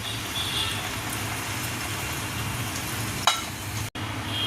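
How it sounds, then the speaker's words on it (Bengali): Chhena paneer cubes frying in oil for a Bengali chhena kalia, giving a steady, close sizzle with a faint background hum, a brief sharp clatter near the end and a momentary dropout. "বাদবাকি কিউবগুলোকেও আমি যে ছানার কিউবগুলো আমি ফ্রাই করে নেব"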